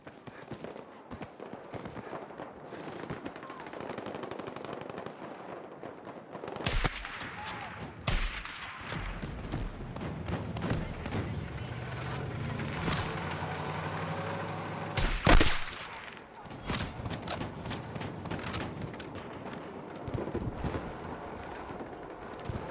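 Sniper rifle gunfire in a video game, a PSR rifle, with a few sharp sudden shots and impacts over busy game background noise, plus some clattering and scattered movement sounds.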